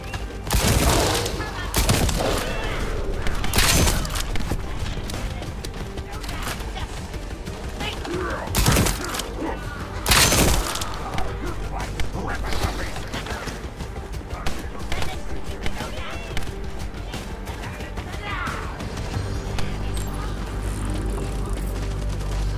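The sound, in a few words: gunfire in the video game The First Descendant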